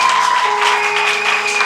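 A church congregation applauding, a steady wash of clapping over the whole stretch, fairly loud and close, with sustained tones held faintly underneath.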